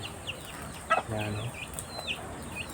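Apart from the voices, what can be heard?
chickens clucking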